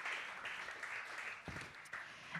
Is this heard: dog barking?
no